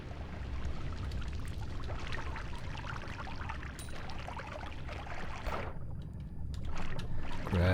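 Water rushes and pours in the video game Noita, a continuous gurgling flow with splashy bursts toward the end, steady and fairly close.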